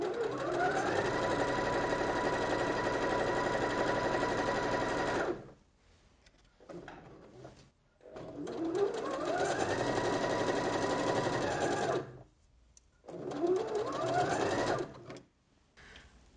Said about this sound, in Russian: То есть я сейчас строчу по лицевой стороне материала.